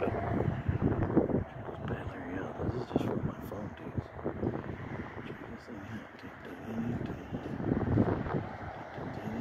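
Outdoor wind buffets the microphone in uneven, rumbling gusts that rise and fall throughout, with speech faintly mixed in.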